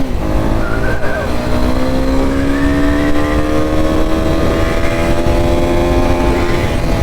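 A 2022 Honda CB300R motorcycle revs hard and accelerates, its loud, close engine note climbing steadily in pitch as it pulls through the gear without a break.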